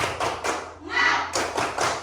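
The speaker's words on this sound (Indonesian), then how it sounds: "Coba tepuk semangat." A classroom group claps a rhythmic cheer, a few quick bursts of hand claps in a short pattern, close and moderately loud, with brief voices.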